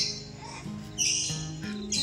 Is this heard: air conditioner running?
no